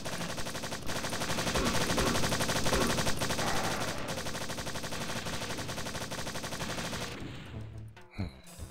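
Sustained rapid gunfire in the video game Strife, a dense continuous barrage of shots lasting several seconds before cutting off to near silence with a couple of faint trailing sounds.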